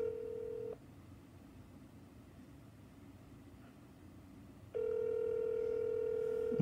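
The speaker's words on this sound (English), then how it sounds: "So I'm just doing a test call to make sure everything's working properly." Ringing of a test call placed from an iPhone, with two steady ringback tones at the start and end separated by a quiet gap, over a faint background hiss.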